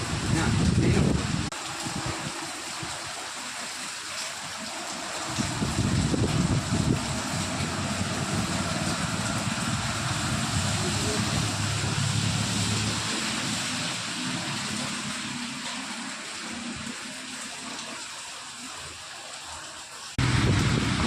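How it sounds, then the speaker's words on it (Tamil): A wind and rain storm lashes Cuddalore with a steady, loud, gusting roar of wind and rain that runs almost the whole time, and a voice speaks over it. "காற்று மழை எல்லாமே சேர்ந்து அடிக்குது."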